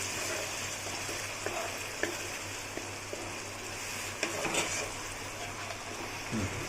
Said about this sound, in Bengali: মশলা কষার জন্য একটু জল এবং টমেটো কুচিগুলো দিয়ে দেব